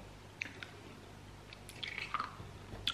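Quiet close-up chewing of McDonald's food during a mukbang: soft wet squishes and a few crisp bites scattered over a few seconds, with no talking.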